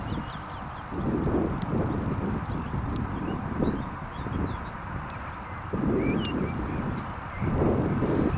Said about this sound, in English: Now we've got 3 seagulls